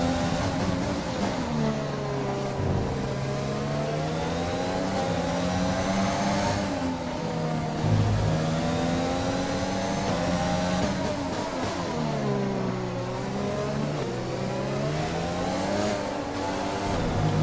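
An F1 2020 race car on a lap, its engine screaming loud and continuous, rising and falling in pitch with upshifts, braking and acceleration through corners.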